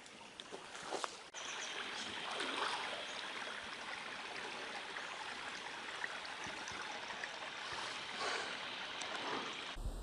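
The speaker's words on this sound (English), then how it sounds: "So we're just coming across a creek." Steady broadband rush of water flowing through a bush creek, seen from high ground above, continuous and fairly even for the whole stretch with a few small knocks and rustles near the start.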